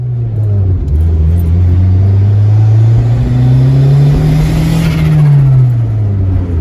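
A turbocharged K-series engine in a seventh-generation Honda Civic revs loudly and continuously up near the rev limiter, its droning note rising and falling in pitch.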